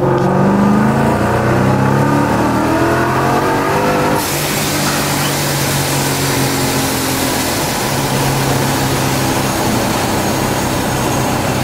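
A supercharged Ford Mustang S550 with a 5.0 V8 revs hard, its rising engine note climbing in steady sweeps before settling into a loud, sustained high drone.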